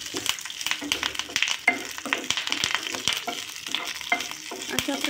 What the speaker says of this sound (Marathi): ह्याच पॅनमध्ये मी आता 1 चम्मच तेल घालत आहे। त्यानंतर आपण कढीपत्ता